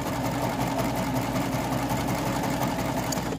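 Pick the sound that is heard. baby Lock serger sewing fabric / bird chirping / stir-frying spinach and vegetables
baby Lock serger sewing fabric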